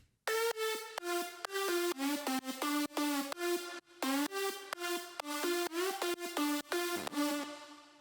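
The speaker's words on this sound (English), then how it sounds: "So let's head over to the lead sound." A bright, buzzy lead synth from an electronic track plays a fast rhythmic melody of short stabbed notes, upfront and loud.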